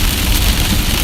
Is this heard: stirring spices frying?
no